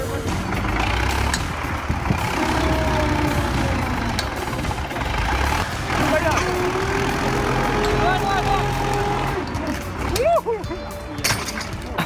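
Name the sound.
LKT-81 forestry tractor turbocharged 4-cylinder diesel engine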